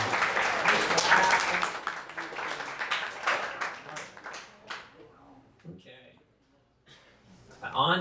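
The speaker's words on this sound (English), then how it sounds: "Applaud the poetry, ladies and gentlemen." A poetry slam audience claps in a dense burst of applause that gradually thins out, followed by a voice speaking.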